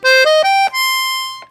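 Red Walther Teeny 48 piano accordion treble played on a single reed: a short rising run of separate notes ending on one long held tone that fades, close and clear with no voices.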